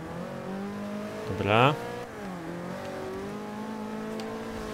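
A car revving hard in the Forza Horizon 2 racing game, a quick rising engine whine that swells briefly and falls away under a steady background drone, with a voice talking over it.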